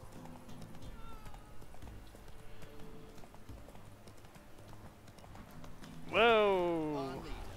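Roach, the horse in The Witcher 3 video game, trots with steady hoofbeats, then lets out a loud, close, descending neigh near the end.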